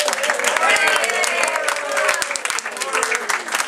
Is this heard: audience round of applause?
yes